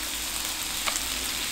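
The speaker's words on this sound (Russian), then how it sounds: "Далее, теперь начинаем обжаривать сало." Pork fat (salo) frying in a little oil, a steady even sizzle with a brief sharper crackle in the middle, moderately close, no talk.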